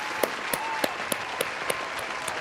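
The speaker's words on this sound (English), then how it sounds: "Ladies and gentlemen, round of applause for Mikey ISO." A studio audience claps for a guest, a steady patter of applause with a few sharper individual claps standing out, fairly faint and even throughout.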